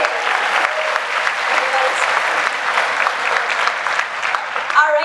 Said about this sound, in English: can we give a final round of applause to these students?